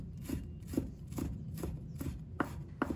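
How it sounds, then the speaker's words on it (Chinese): A knife chops fresh ginger on a board in an even run of about eight crisp, close taps, steady in rhythm for the whole stretch, with no talk. "再准备1块生姜，把它切成片。 再切成丝，然后切成末。"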